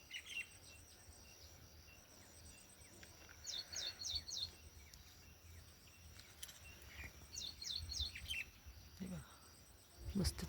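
Sparrows chirping in a fig tree on a farm, faint high twittering in short clustered bursts against a quiet background with insect buzz and occasional rustling.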